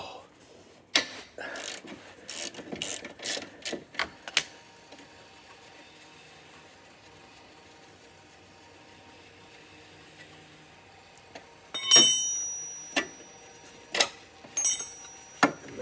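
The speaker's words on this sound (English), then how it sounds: "The last bolt to remove is the 14 millimeter holding the lower control arm in the frame." A ratchet wrench clicks in short bursts of rapid metallic ticks as a 14 mm bolt is loosened from the lower control arm of a Suzuki Carry, with quiet pauses between the bursts of ratcheting.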